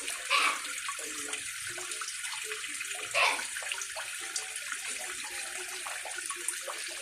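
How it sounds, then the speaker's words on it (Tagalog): Fish being rinsed by hand in water after soaking, running water from a tap hissing steadily with soft splashes and a couple of brief louder sloshes, no talking. "Tapos ngayon hugasan natin ulit kasi binabad natin siya sa tubig."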